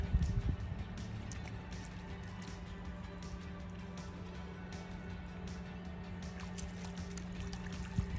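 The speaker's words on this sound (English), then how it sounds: "Look at this little creek right here." A small forest creek flows with a soft, continuous trickle and scattered light splashes, quiet and steady, heard outdoors with no voices over it.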